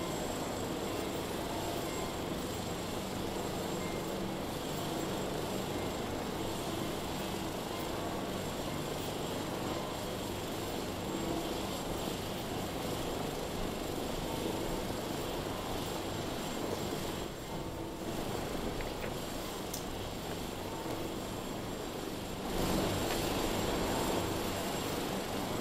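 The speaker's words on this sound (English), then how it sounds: "the papal helicopter is ready to take off" The papal helicopter sits at the Vatican with its engine running ahead of takeoff, a loud, continuous broadband roar and whine that holds steady throughout and swells near the end.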